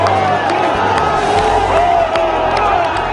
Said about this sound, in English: The waiting crowds exploded in ecstasy.